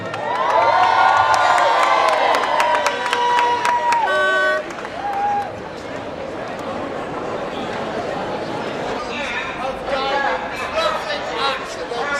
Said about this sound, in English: Can we have a big cheer, please, for Greater Manchester Police?